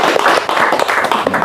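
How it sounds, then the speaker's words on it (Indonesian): Audience clapping at an Indonesian religious lecture, a dense, steady patter of many hands held close and loud for the full length with no talk over it. "Ya, tepuk tangan dulu, silakan. Tepuk tangan."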